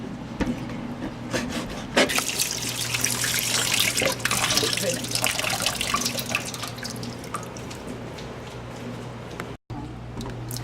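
Running tap water pours steadily into a sink while goat intestines are washed under it, a continuous close splashing flow with occasional drips and handling sounds, briefly cut off near the end.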